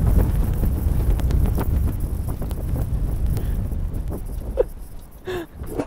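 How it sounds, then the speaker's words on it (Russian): Strong wind buffets the microphone on the coast at Gelendzhik, with a rough, roaring rumble that gusts and eases, with brief thumps near the end. "О, посмотрите, какой сильный ветер просто."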